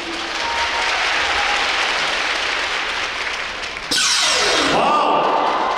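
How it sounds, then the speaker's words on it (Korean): Applause and cheering from a volleyball arena crowd during a practice spike serve at a women's V-League pre-All-Star serve contest, steady dense clapping that swells louder near the end with a rising whoosh. "연습 응원의 박수"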